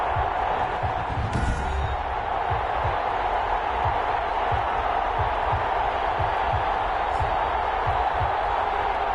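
A dense stadium crowd roar fills an NFL video game broadcast before a Buffalo Bills matchup, a steady loud wash throughout with a commentator talking over it.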